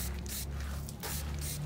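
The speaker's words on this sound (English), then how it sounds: "I'm just gonna go around and spray it." A handheld spray bottle mists peppermint oil onto orchid plants in several close, hissing bursts in quick succession, with no talk over them.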